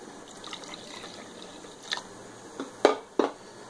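Water poured from a glass into thick dal makhani in a pot, heard as a soft trickle that builds into a few short, close splashes toward the end.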